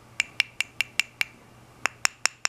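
A series of crisp, bright taps knocking on an ink stick in an even rhythm, six in a row, a brief pause, then four more, each short with a light ringing tone.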